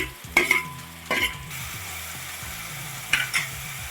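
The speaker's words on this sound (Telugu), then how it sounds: "ఇప్పుడైతే టమాటో ముక్కలు కూడా యాడ్ చేస్తున్నాను" Tomato pieces dropped into a hot pan of frying ingredients for an eggplant and meal maker curry, a few sharp splashy bursts of sizzle and stirring scrapes over a steady close frying hiss.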